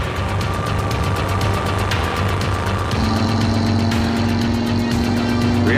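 Customized van engine racing hard at high speed during a chase, a loud, steady mechanical drone and roar with vibration that climbs in pitch and intensity midway.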